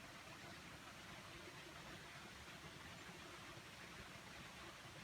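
A stream runs steadily through a quiet glen in early spring, its water flowing as a continuous, even rush of broadband noise with no pauses or other clear sounds.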